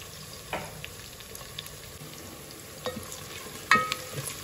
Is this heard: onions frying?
yes